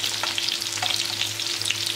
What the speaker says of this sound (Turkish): Bu küçükler de böyle kızarsın.